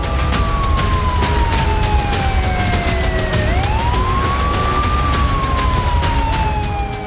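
A loud wailing air raid siren during a wartime missile alert in Ukraine slowly falls and rises in pitch over a steady rumble of background noise, continuous throughout.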